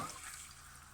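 Water, about 200 ml, poured into a pan of sausage, fennel and chili ragu, giving a short, steady liquid splash that fades slightly over a second.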